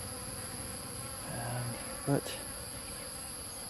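Bees buzz around rocks outdoors in Thailand, a faint, close insect hum over a steady background with one brief louder buzz, and a voice briefly speaks.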